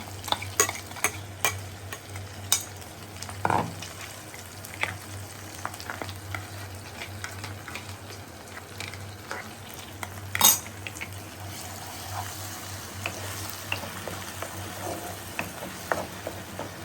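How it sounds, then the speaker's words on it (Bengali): Ground spice paste fries in a pan, a close and steady sizzle broken by a spoon scraping and clinking against the pan now and then. No one speaks. "এই বেটে রাখা মশলাটা আমি একটুখানি কষিয়ে নিচ্ছি"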